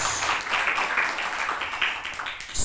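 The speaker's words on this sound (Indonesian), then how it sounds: "Beri tepuk tangan terbaik buat Tuhan Yesus Kristus" A church congregation claps and applauds together in a steady broadband wash that carries on without a break, with no talking over it.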